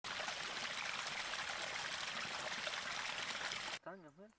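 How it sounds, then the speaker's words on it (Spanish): A river flows steadily and close by at a riverside spot in Ourense, Galicia, a dense continuous rush of water that cuts out abruptly near the end, followed by a brief voice. "Si cierras los ojos y escuchas el sonido del río, casi puedes imaginar cómo se sentían al meditar aquí."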